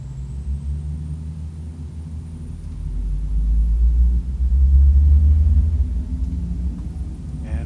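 At a small airfield, a light aircraft engine powers up for takeoff, a low steady drone that builds into a louder rumble midway and then eases slightly, close by and without talk.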